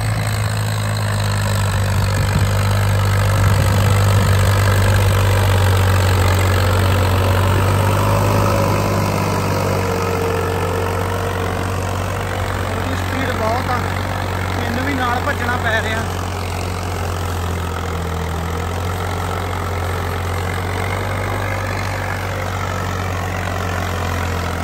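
An Agriking 2055 4WD tractor's diesel engine runs steadily nearby, a loud continuous low rumble that rises slightly then settles at a constant idle-like drone throughout.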